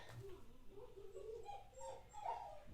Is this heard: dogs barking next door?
yes